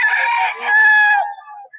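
A single loud crow close by from a 10-month-old hen-feathered gamecock at a backyard fowl seller, a drawn-out, strained cock-a-doodle-doo that breaks off near the end.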